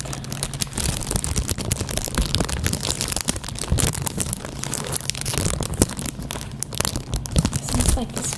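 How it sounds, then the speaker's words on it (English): Metallic, foil-like tissue paper printed with snowflakes is crinkled and crumpled up close, giving a continuous stream of sharp crackling and rustling at a steady level. "It is a type of tissue paper that you'd use for wrapping or stuffing a gift."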